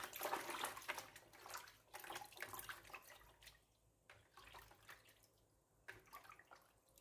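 Malabar spinach stems are washed and swished by hand in a bowl of water, giving irregular splashing and sloshing bursts that fade into quieter dripping and trickling, close up with no talking.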